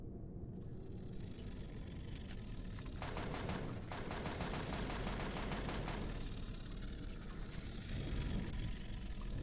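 Gatling guns on a Crusader tank in the game Empyrion fire in rapid rattling bursts, a short one and then a longer stretch, over a low continuous engine rumble.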